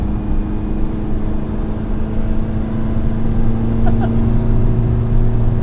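A 1987 Yugo 55A engine pulling in third gear, a steady droning hum with a faint rising pitch, loud and continuous inside the car with no talk over it.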